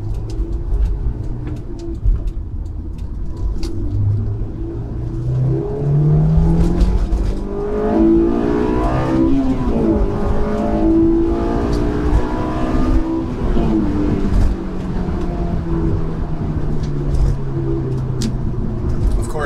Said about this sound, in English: I gotta say, the road noise is pretty loud on this.